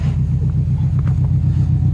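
A 4x4 Chevrolet Blazer engine idles with a deep, steady low rumble, loud and close, holding an even throbbing pulse without pause.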